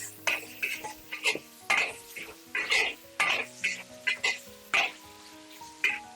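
Pork stir-fried in a wok with salt, MSG and dark soy sauce for a Chinese chili pepper pork dish, heard as steady repeated clanks and scrapes of a spatula against the wok over a soft sizzle, close and fairly loud.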